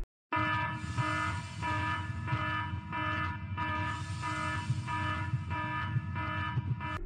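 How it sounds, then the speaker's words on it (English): A loud, harsh alarm blares in repeating pulses about once a second, tonal and piercing, continuing steadily after a brief silence at the start. "Musical type: alarm siren."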